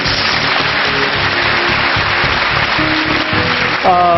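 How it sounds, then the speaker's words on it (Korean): A studio audience at a lecture-style talk show applauds, dense sustained clapping heard clearly for several seconds before a voice starts speaking at the very end. "박수 한번 주세요"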